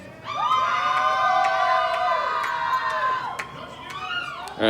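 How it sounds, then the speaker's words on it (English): A crowd at a music show cheers wildly, loud sustained screams and whoops rising together, with high sharp shouts cutting through the din before it tapers slightly near the end. "Anyone who thinks I should drop out and just spend more time on music, cheer wildly now"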